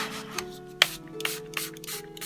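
Soft rubbing and wiping strokes wiping paint off journal paper, with a few sharper brushes and scrapes, close by and quiet, no voices.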